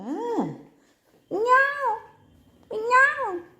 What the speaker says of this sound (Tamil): பூனை வருது, பூனை சவுண்டு கேட்குது.